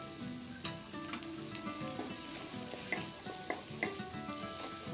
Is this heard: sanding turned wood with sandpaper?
no